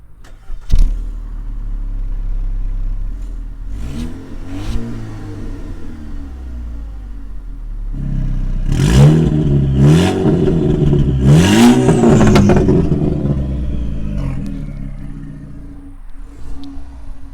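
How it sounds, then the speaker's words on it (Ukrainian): A car engine idles with a deep rumble, then is revved hard several times, the exhaust roaring up and dropping back between blips. "Ще цікавого це вихлоп."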